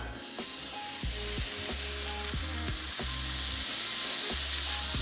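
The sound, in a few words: bacon and sausage sizzling in pan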